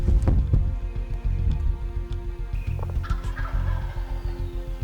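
Wild turkey toms gobble repeatedly in leafed-out timber, loud and close at first with further gobbles answering through the woods, over a steady low rumble of background noise.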